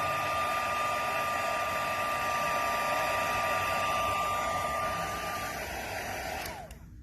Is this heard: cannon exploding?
no